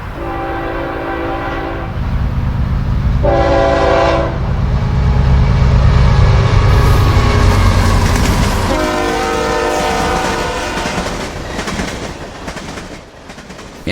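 Norfolk Southern freight train NS 169 approaching, loud rumbling and rolling close by while the horn blows in several long blasts, the last one longer and fading as the train passes.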